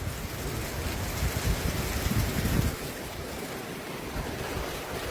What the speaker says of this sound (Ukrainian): Оце так дощ, я вам, ребята, скажу.